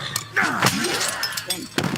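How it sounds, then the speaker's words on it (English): A glass bottle smashing in the zombie shooter World War Z: a sharp crash with shattering fragments and a dull thunk, followed by another impact about a second later. "Sorry, got distracted by him smashing the bottle."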